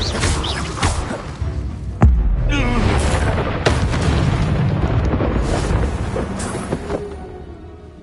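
Incendio fire spell blast in a PS4 video game: a sudden loud boom bursts out and rolls into a sustained roaring, crackling rush that slowly fades, with a few other sharp effects around it.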